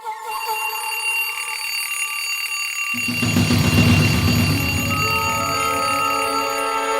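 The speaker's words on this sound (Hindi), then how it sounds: "दूसरा अलार्म भी बज गया" A loud, continuous electronic alarm rings steadily, growing fuller and harsher partway through, with no pauses.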